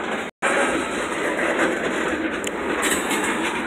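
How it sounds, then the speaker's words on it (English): A freight mill train on the Portland to Rumford, Maine line rumbles and clatters past nearby, loud and continuous, with a brief gap in the noise near the start. "Yeah, the train's moving again."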